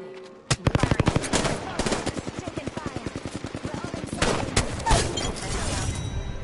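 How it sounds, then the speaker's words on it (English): Apex Legends gunfire on PS4 erupts as a loud, rapid stream of evenly spaced shots lasting several seconds, with heavier blasts near the end. Game noise and voices sit underneath. "I just shot him with one round of the Mastiff there."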